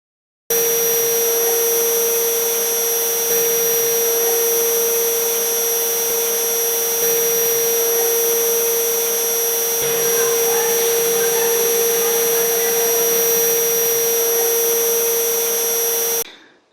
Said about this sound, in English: Then the instrument will automatically keep at 270 kV and count to 1 minute.